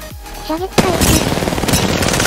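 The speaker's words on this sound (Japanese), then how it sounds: "射撃開始。" Gunfire erupts in Apex Legends combat: after a couple of brief electronic whooshes, a loud burst of rapid automatic shots rattles on continuously at close range.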